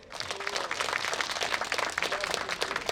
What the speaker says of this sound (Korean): 이 면에서 박수 한번 보내주세요